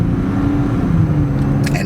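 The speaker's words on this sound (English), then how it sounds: "And it is revvy for a big engine." A 1998 Mercedes-Benz SL 600 R129 with a V12 engine rumbles steadily while driving, a close, continuous low engine drone with slight revving and no talk.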